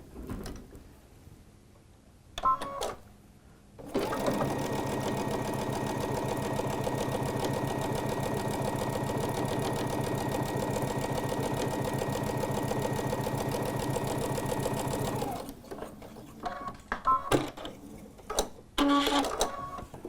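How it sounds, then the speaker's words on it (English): A sewing machine stitches a quilt seam a quarter inch from a drawn line, running in one steady, loud mechanical burst of about eleven seconds, with brief clicks and handling noises of fabric before and after. "I'm going to go to the sewing machine and stitch 1/4 inch down on the right side"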